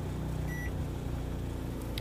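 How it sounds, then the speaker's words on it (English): Microwave oven powered by a Predator 3500 generator, a continuous low electrical hum and drone held steady throughout, fairly quiet, with faint brief high tones and no talking. "So go over here to the microwave."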